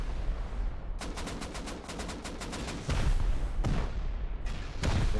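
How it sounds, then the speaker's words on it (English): Rapid bursts of C4 and rocket explosions in the video game Rust crackle in a dense series, with heavy booms layered underneath a chaotic battle din. "You can hear all the C4 and the rockets going off."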